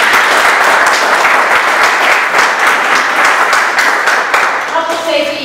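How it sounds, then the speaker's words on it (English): Audience at a North End Chamber of Commerce meeting in Boston applauding police guests, a loud continuous round of clapping that holds steady, then thins slightly near the end as a voice begins to come through. "Let's give a round of applause."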